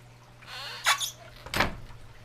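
Aquarium stand cabinet door on a stacked 55 and 60 gallon tank setup, opening with two short squeaky creaks and a soft thump over a faint steady hum, close and fairly quiet.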